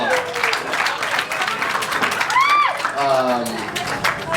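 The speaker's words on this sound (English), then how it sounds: "Give Megan a round of applause." Audience applause at a couple's celebration, steady broadband clapping across the whole stretch with cheering voices and a few whoops rising over it.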